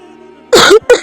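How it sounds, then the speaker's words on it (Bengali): A sick patient with chest pain and a worsening cough coughs close by: one harsh, raspy burst followed by a second, shorter cough, with a faint steady hum underneath. "আর কাশিটা খুব বেড়েছে"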